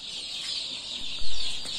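Soft clucking from weak KUB-2 chickens close by over a steady high-pitched hiss, with a short low thump near the end.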